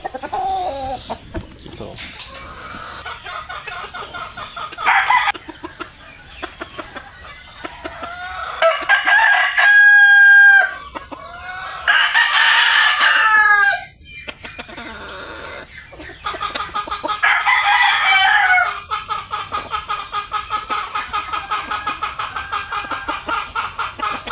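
A five-month-old white Kelso rooster crows loudly several times close by, with clucking and other fowl calls in between against a steady background hum.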